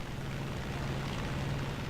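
Steady drone of a P-47 propeller fighter in flight in War Thunder, a continuous low engine hum with airy broadband noise, constant and close throughout with no talk.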